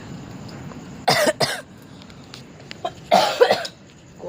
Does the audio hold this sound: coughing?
yes